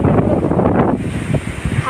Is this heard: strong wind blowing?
yes